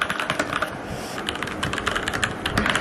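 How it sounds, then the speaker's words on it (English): Rapid typing on a newly bought computer keyboard, a dense, steady clatter of keystrokes throughout at close range, with no voices. "So Joseph is giving a typing test now"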